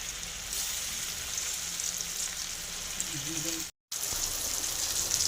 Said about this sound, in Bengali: তেলটা গরম হয়ে গেছে এবার আমি এগুলোকে ভেজে নেব